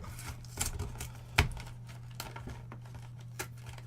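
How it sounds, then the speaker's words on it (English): Keys pry and scrape at the cardboard box of a Yu-Gi-Oh! structure deck, giving scattered close crinkles, taps and one sharp click, quiet over a steady low hum with no talking. "so now I'm going to use my keys"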